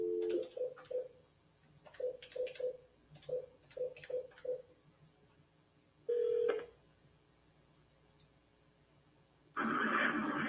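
Telephone dialing during a call: a run of short keypad beeps in quick clusters, then one steady ring tone, then a loud burst of harsh noise at the end.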